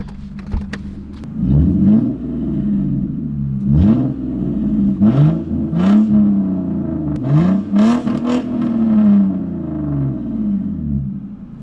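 A loud, raspy Lexus IS300 engine with a straight-pipe, muffler-delete exhaust revs repeatedly to redline, rising and falling in pitch with harsh exhaust crackle close by.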